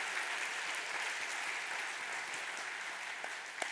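A Korean church congregation applauds during a Sunday service, a sustained, even roar of many hands clapping at once, steady and fairly loud for several seconds without speech.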